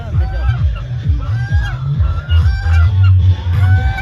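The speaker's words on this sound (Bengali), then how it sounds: "রাজহাঁস, দেখুন রাজহাঁসগুলো কি সুন্দর ডাকছে" Domestic geese honk on a farm, their loud nasal calls repeating and overlapping at close range, with chickens nearby and a steady murmur of background voices beneath them.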